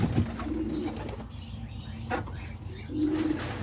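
Homing pigeons coo in low, throaty phrases, one at the start and another near the end, close by with faint rustling and a brief flutter between calls.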